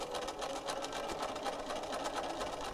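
A sewing machine top stitches flat felled seams on a Victorian ball outfit, a steady rapid whirring of needle strokes running continuously at even speed, close and clear with no talk.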